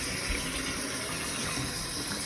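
Tap water runs into a pot being filled for boiling in pickle canning, a steady close gushing stream that holds at an even level throughout, with no talk.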